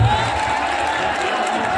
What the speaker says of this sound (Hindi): तुरंत जोरदार तालियों के साथ भाई साहब का स्वागत